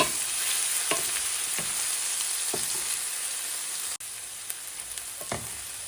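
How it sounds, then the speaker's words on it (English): Ginger, garlic and chili fry in a pan for a Thai seafood curry, giving a steady, bright sizzle with a few light stirring taps scattered throughout and a brief cut near the end; no speech. "So now I put my ginger, garlic and chili on the pan and fry it"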